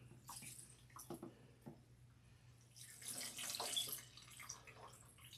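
Running water pours from a tap while hair is being rinsed, faint splashing that swells and fades unevenly over a low steady hum, with a stronger gush midway.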